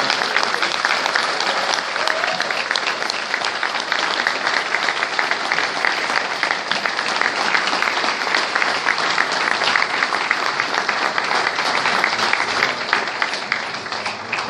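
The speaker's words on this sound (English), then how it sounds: "Could I just get everyone to give a round of applause to our head coach?" A season ticket holders' crowd gives a round of applause for the head coach, with loud, dense, sustained clapping that holds steady for about fourteen seconds with no pause.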